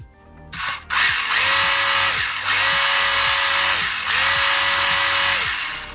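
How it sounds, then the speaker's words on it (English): Cheap 4x4 RC truck electric motor running at speed, a loud close high-pitched whine that revs up and drops back in repeated surges, each burst lasting about a second, after a few brief clicks at the start. "It claims 18 miles an hour, and it does sound like it has some speed."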